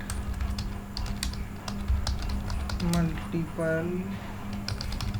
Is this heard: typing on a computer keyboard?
yes